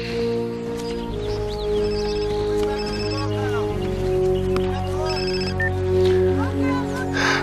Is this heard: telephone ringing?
yes